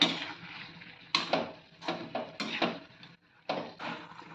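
Stirring chayote kootu in a pan, with a spoon scraping and knocking against the metal in several uneven strokes, close and fairly loud, with short pauses between them.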